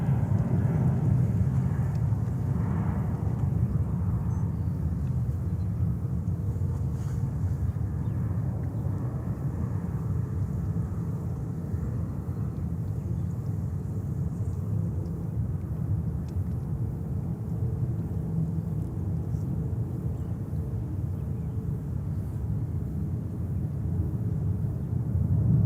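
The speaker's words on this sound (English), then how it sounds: "And next takeoff, Uzbekistan. 787-8 back to Tashkent." An Uzbekistan Airways Boeing 787-8 takes off at JFK, heard as a steady, distant low engine roar and rumble holding for the whole stretch, with no voices.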